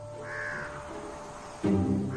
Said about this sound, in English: Crows will mob the eagles relentlessly.